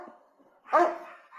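A single loud, close bark from a dog in a backyard where a mandolin and accordion are being played, rising sharply out of a faint, murmuring background and fading quickly.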